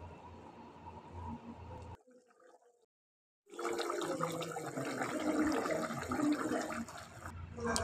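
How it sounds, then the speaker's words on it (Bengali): Water poured into a pan of curry with fried potatoes and bata fish, a splashing, gushing stream that starts, breaks off into a short silence, then resumes louder and fuller. "এবার এর মধ্যে জল দিয়ে দেব"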